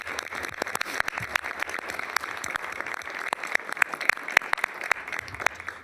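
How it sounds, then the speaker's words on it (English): Scattered, fairly faint applause from an audience thanking event sponsors at a regional transportation commission meeting, sparse claps with a few sharper ones standing out, no talking over it. "please join me in giving them a round of applause"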